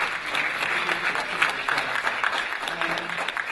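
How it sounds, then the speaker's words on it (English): Steady applause from a room of people, dense clapping sustained throughout with no pauses, fairly close and moderately loud. "the people who organized this, including Gina, really deserve a round of applause."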